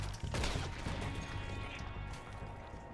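Gunfire in the video game Red Dead Redemption 2, with a sharp shot burst near the start followed by a rumbling crash and lingering mechanical noise, fairly faint and with no talk.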